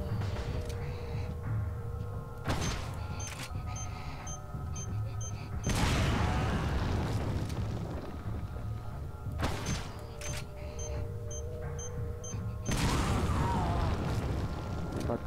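Repeated heavy blasts in the Resident Evil 4 video game, two loud booming explosions with rumbling tails set against a steady game soundscape, spaced several seconds apart.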